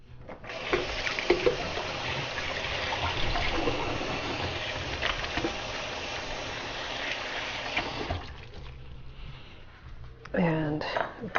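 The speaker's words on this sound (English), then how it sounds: "I'm going to wash my hands." Hands washed under a running kitchen tap, a steady splashing water stream for about eight seconds before it stops, followed by quieter handling sounds and a brief voice near the end.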